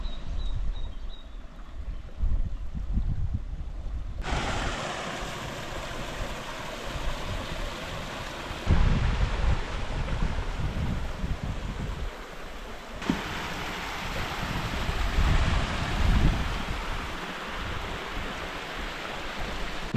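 A river rushes loudly along a rugged route, heard as a broad, continuous watery roar with abrupt level shifts, swelling and easing in places, close and dominant with no talking.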